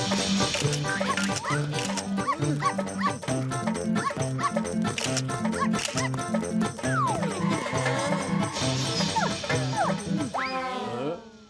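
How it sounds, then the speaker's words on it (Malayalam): A small cartoon puppy yaps in quick repeated high barks over lively background music and sound effects, ending with a rising comic whine; near and prominent throughout. "കഷ്ടം, ഇത്രയും ചെറിയൊരു പട്ടിക്കുട്ടിയെ കണ്ടിട്ട് പേടിച്ചോടുന്നോ?"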